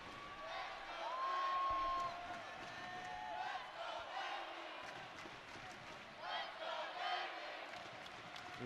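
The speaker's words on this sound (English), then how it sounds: "Listen to this crowd." Loud arena crowd at a Navy at Army women's volleyball match, sustained roaring, cheering and whooping filling the whole stretch, with swells of shouting and a few whistle-like tones over the din.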